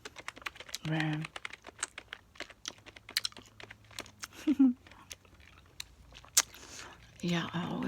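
Light tapping on a computer keyboard in a quiet ASMR phone-call setting comes in scattered, uneven bursts of close, crisp clicks, with soft chewing sounds and occasional low voice mixed in.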